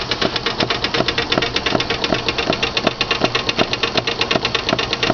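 An antique miniature Victorian vertical marine steam engine with Stevenson's reversing gear and a displacement lubricator runs steadily, giving a fast, even clatter of regular beats with a continuous hiss, close and alone throughout.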